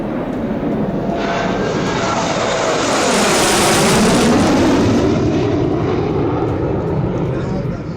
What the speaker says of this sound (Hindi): आगरा लखनऊ एक्सप्रेसवे पर फाइटर जेट उड़ान भरेंगे।